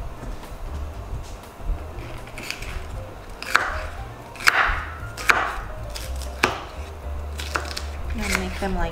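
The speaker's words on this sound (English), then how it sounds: "Cutting the onions." A knife chops onions on a cutting board for kimchi bacon pasta, irregular crisp thuds that come close and moderately loud with kitchen background.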